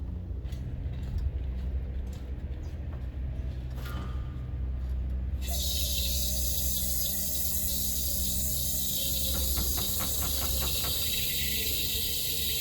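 Propane hissing steadily while a 1 pound propane bottle is refilled from a larger tank, a soft airy rush that grows brighter and louder partway through, with faint rhythmic ticking near the end.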